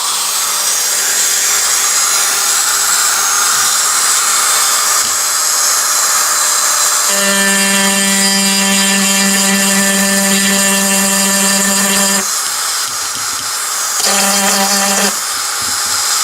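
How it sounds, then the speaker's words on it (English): Dremel rotary tool running at low speed during arcade circuit board repair, a close, steady buzzing whine throughout, with a stronger humming tone rising partway in, cutting out briefly, and returning once more. "Got this Dremel on low speed."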